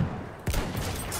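A sniper rifle shot in the video game Battlefield 1, with an M95 or Mosin in use: a single sharp, loud blast hits mid-clip, and a dense rumble of gunfire and game noise fills the background before and after it.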